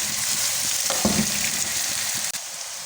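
Chopped capsicum sizzles and fries in a hot pan for vegetable fried rice, giving a steady, loud hiss with a few brief stirring scrapes and taps, close up and without talking.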